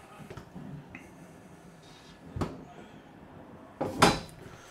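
Pull-out drawers in a 2024 Brinkley Model G 3500 toy hauler slide and bump shut, with a soft knock midway and a louder rattling close near the end, nearby in a quiet interior.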